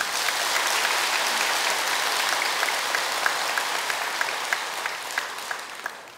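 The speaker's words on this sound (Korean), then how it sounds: "감사의 박수 한번 쳐주시죠." Gathered worshippers at a Buddhist temple lecture clap in appreciation, a broad, lively burst of applause that slowly thins, leaving a few distinct, sharper claps standing out toward the end.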